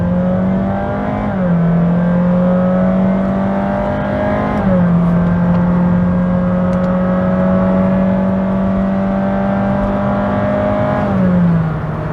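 A 2023 Honda Jazz e:HEV RS with a 1.5-litre dual-motor hybrid hums loudly from inside the cabin, its pitch climbing steadily and dropping briefly between gears while accelerating.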